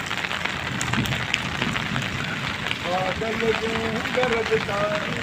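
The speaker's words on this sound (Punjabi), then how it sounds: "ਹੁਣੇ ਮੀਂਹ ਉਤਰਿਆ" Steady rain patters on a surface throughout in Bathinda, with a voice speaking over it in the middle.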